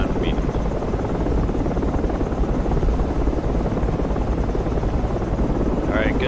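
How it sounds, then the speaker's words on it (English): Transport helicopter in the military shooter Project Reality, a loud, steady rotor and engine drone filling the whole stretch close by, with faint radio-like voice chatter underneath. "we're about to fly into gas station with the trans chopper"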